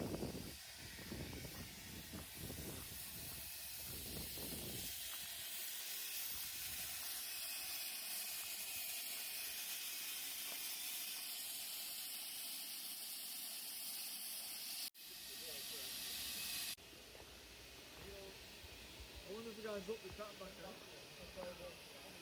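Steam hisses steadily and broadly from the Victorian steam locomotive Sir Berkeley at a heritage railway, heard at a moderate distance. A voice talks at the start and again near the end.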